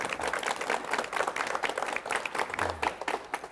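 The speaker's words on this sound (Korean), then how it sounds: "박수로 맞이해 주십시오." Studio audience applause welcomes a guest on a 1985 Korean television talk show, brisk clapping from a modest crowd heard close and steady throughout.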